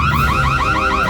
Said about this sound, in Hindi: क्या अलार्म तुम्हारे निकलने के बाद बज गया था?